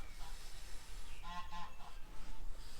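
A goose honks several times in a short series of nasal calls, moderately near, with a faint hiss alongside and low background noise in a backyard.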